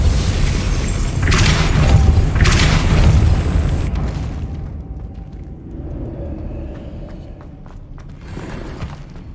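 Depulso spell impact in Hogwarts Legacy: loud booming rumbles with two strong bursts in the first four seconds, then a quieter mechanical rumble with faint clicks trailing off, no speech.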